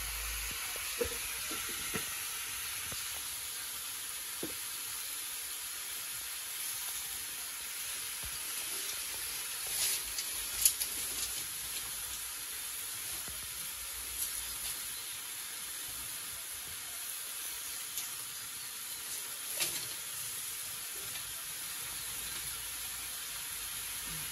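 Malabar spinach sizzles in a pan while being stirred: a faint, steady hiss runs throughout, broken by occasional soft scrapes and clicks of the spoon.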